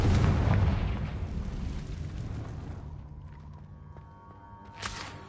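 A blasting-curse spell explosion erupts with a heavy, loud boom that rumbles and slowly decays over several seconds, followed by a faint ringing tone and a small late pop.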